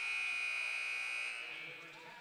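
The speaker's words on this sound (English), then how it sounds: "Might have got that off before the buzzer." Basketball game buzzer sounding in a men's college gym, a loud sustained electronic drone that fades after about a second and a half, with a commentator talking over it.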